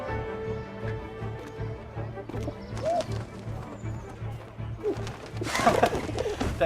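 A pigeon coos in the 11-11 Memories Retold video game, with soft rounded calls around the middle and later, set among an outdoor ambience with faint clopping and a brighter burst near the end.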